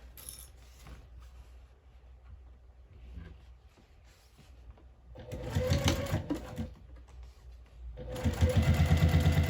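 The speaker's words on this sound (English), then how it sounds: "So we're butterflying it open, and then top stitch down either side." A sewing machine top stitching fabric for a bag, starting with quiet mechanical clicks and handling, then two close, loud runs of rapid whirring stitching, the second rising to full speed at the end.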